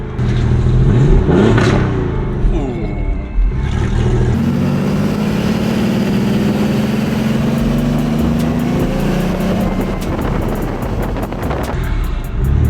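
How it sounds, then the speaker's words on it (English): A Porsche 964 engine runs loudly and unevenly at a faulty rough idle, its low rumble wavering, with wind buffeting the microphone throughout. "Oh, there's the idle issue right there."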